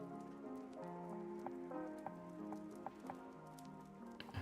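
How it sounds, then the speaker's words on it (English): Heavy rain pours down at midnight, a dense, steady roar of drops hitting surfaces that runs continuously throughout with no voices. "It's dumping rain."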